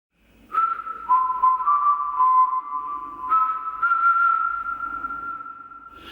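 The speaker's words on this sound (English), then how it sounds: "I'm going to put delay and reverb on the whistle going forwards" A single person whistles a wandering tune of sustained, pitched notes, each one trailing off into a clear delay echo and roomy reverb, with no talking.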